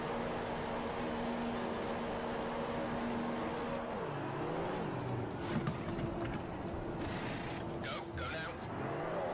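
A Formula 1 race car in the video game F1 2015 pits on a drying track at Italy, its engine note droning steadily, then dropping and wavering as it slows, under continuous talk.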